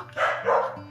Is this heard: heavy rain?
no